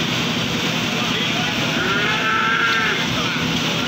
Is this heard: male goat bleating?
yes